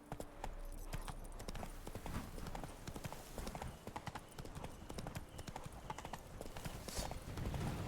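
Hooves of Geralt's horse Roach in The Witcher 3 clip-clop in a steady, continuous gait over ground, with a faint whinny, mixed with ambient game sound.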